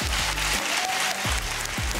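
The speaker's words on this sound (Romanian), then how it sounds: "Aplauze!" A burst of audience applause on the TV singing contest Vocea României, loud and dense, clapping continuously under a low musical thump that pulses a few times.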